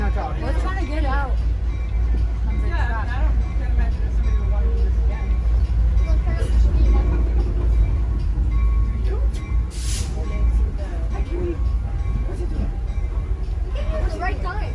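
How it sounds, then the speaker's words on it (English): A train running along the track on a trip to Lincoln, New Hampshire, a steady loud rumble and rattle heard from inside, with people talking over it throughout. "the train is running"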